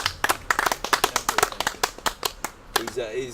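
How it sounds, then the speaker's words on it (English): A small group claps by hand at a care resort in Damnoen, Thailand, the distinct, uneven claps close and sharp for about three seconds before a voice begins speaking. "We can even give him a clap because he deserves one."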